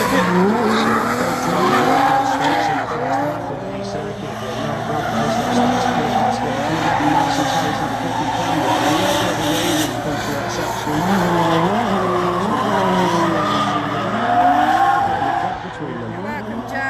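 Drift cars initiate and slide through a circuit at a Drift Cup round, engines revving hard with sustained tyre squeal that carries on and off for the whole stretch while a commentator talks over it.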